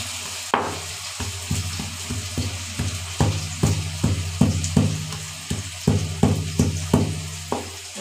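Prawns and vegetables fry in a pan, giving a constant sizzle and a steady, regular run of stirring scrapes roughly twice a second, close and clear, with no talking.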